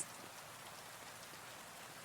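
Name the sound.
rain falling on window glass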